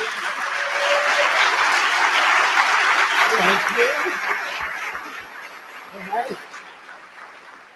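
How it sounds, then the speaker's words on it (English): An audience gives a standing welcome applause for a guest speaker at a Little Rock Nine event, with sustained clapping that gradually tapers off as voices and cheers rise through it. "please stand and give a warm welcome and round of applause for Miss Minnie Jean Brown Turkey"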